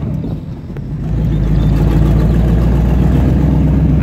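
Shelby Cobra sports cars creep slowly along a village road in the Drôme, their engines rumbling at idle. The low, loud drone is close and steady and swells slightly after a softer start.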